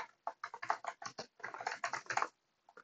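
Close, quick typing on a computer keyboard while taking notes, a fast burst of clattering keystrokes in two runs with a brief pause between, then a couple of isolated taps.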